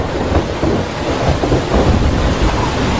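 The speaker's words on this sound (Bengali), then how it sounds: "ঝমঝম করে বৃষ্টি নামলো বাইরে।" Heavy rain pours outside as a loud, dense, unbroken roar that lasts throughout, used as an audiobook sound effect with no voices.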